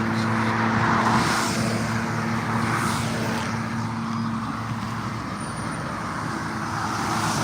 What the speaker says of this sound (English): as the car's coming